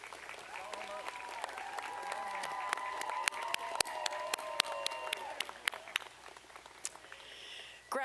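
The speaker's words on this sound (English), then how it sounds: "Graduates, please stand and give your family and friends a round of applause" Graduates at the UT Southern 2026 graduation ceremony applaud their families and friends. Scattered claps build into steady applause over a low crowd murmur, with sharper individual claps standing out near the end.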